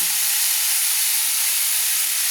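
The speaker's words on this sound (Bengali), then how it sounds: "হালকা করে ভেজে নেবো আমি, বেশি ভাজবো না" Yardlong beans fry lightly in oil in an open pan, a loud, even hiss of sizzling oil that stays constant from start to finish.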